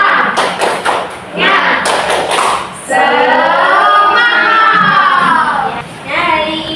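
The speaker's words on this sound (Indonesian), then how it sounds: "mari kita melakukan tepuk semangat ya." A sixth-grade class performs a rhythmic group clapping chant, sharp patterned claps in quick beats followed by children shouting together in unison, loud and close in the room.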